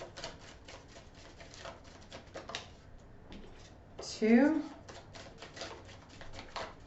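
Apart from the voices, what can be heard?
shuffling tarot cards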